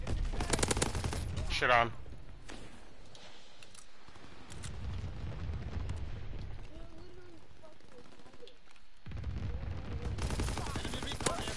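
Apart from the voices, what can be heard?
anti-aircraft fire in a Call of Duty video game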